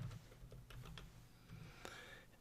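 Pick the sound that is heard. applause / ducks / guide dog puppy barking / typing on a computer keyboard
typing on a computer keyboard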